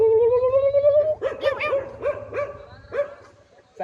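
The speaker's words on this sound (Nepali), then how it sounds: "अगाडि त्यो मुजी कुकुर कराएर हेर" A dog barks several times in quick succession, close and loud, following a sustained high tonal sound at the start, then trails off into quieter yelps.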